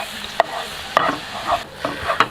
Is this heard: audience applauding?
no